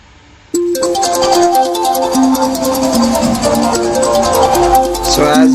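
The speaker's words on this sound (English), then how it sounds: "So as you can see, our alarm is ringing up." An Android phone alarm rings after a brief quiet moment, a loud, steady, repeating electronic melody that keeps sounding close by until the end.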